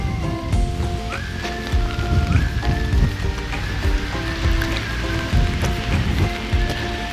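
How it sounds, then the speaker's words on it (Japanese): Rain falling at night at Matsumoto Castle during a cherry-blossom night event, a steady patter of drops on surfaces with faint tonal music in the background. "雨です。"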